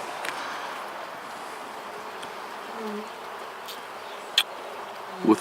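Honeybees hum faintly and steadily during a beehive inspection, close by in a quiet outdoor setting. A couple of brief knocks and clicks break through near the end.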